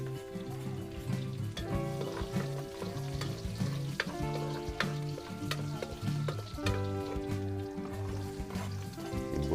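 Onion and garlic sautéing in a pan over a farm-style cooking fire, a continuous close sizzle with repeated stirring scrapes and clinks, heard alone without talk.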